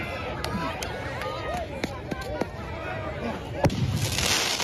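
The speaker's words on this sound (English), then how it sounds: "Footage capturing fireworks being launched at law enforcement." Fireworks launched at law enforcement during a city street protest: sharp pops and crackling bursts sound at a distance over a steady crowd murmur and outdoor noise.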